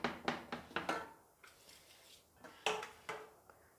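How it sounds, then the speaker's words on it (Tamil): A spoon scrapes and knocks around a pot while food is stirred, a run of five quick close taps followed by a pause, then a few more clinks, fairly quiet with no talking. "மறுபடியும் அடியில் இருக்கிறது எல்லாத்தையும் நல்லா நம்ம இப்படி கிளறி விடுங்க"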